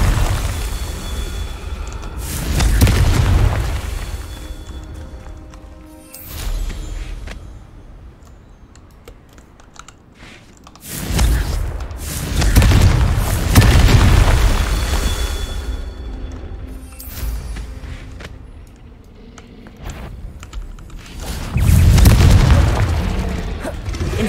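Confringo spell blasts in the video game Hogwarts Legacy: three heavy, booming explosions with rumbling tails, spaced several seconds apart, each rising loud then fading back to lower crackling ambience.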